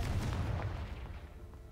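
Confringo explosive spell going off in Hogwarts Legacy, a booming blast with a rumbling tail that decays over under two seconds, fairly quiet in the mix with no talk.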